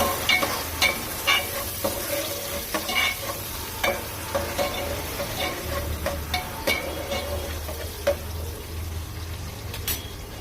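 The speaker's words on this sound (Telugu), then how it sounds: "ఆనియన్, అలాగే పచ్చిమిర్చి, అవి కూడా వేసేసి బ్రౌన్ కలర్ వచ్చేంత వరకు కూడా ఫ్రై చేసుకుందాం" Chopped onions and green chillies fry in hot oil in a pan, giving a steady sizzle under repeated scraping stirs of a spoon, close and moderately loud with no talking.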